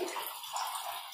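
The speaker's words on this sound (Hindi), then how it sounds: "और इसमें मैं ऐड कर रही हूँ बटर मिल्क, जो मैंने बनाया है" Homemade buttermilk made from cow milk poured over ice cubes in a glass, a steady liquid pour with soft splashing and gurgling, close and fairly quiet, no talking.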